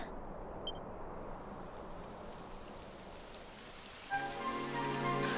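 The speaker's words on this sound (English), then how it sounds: "It would have to go and start raining, wouldn't it?" Steady rain in the video game Dragon Quest XI S patters and hisses evenly on a surface, and a soft tonal hum rises near the end beneath it.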